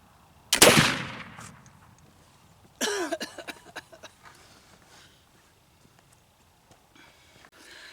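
Homemade black powder rifle fired downrange, two sharp booming shots a couple of seconds apart, the first louder with a long rumbling tail, then a quiet outdoor hush.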